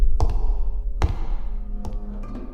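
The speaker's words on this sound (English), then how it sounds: "heavy footsteps" Three heavy, widely spaced thuds from the Atari 2600 game Haunted House, each a dull low impact with a short ringing tail, sounding alone with no voices.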